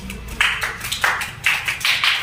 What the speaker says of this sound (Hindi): बहुत बढ़िया, ताली बजाओ।